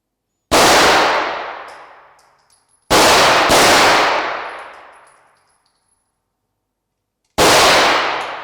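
SSU commandos firing weapons at targets during a demonstration, several sharp loud shots with long ringing reverberant decay, two in quick succession mid-way and one more after a pause.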